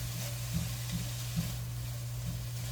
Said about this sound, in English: I am going to go ahead and cook the other 3 packages of sliced steak that I have.